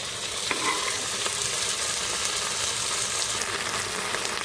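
Okra sizzles steadily in a hot pan with green chillies and onions for a dry fish curry, with occasional scraping stirs of a spoon, close and continuous with no talking.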